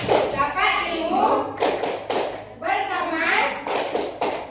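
Children clap a rhythmic classroom clap chant, bursts of sharp hand claps in a steady pattern, near and loud, mixed with children chanting along.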